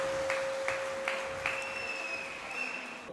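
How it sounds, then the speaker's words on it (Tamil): Audience applause at a Tamil comedy debate show, welcoming a lawyer from Chennai: a steady, fairly faint wash of clapping with no talk, and a thin sustained tone running beneath it. "சென்னை சேர்ந்த வழக்கறிஞர் சந்தியா அவர்களுக்கு உற்சாகமான கரகோஷம்"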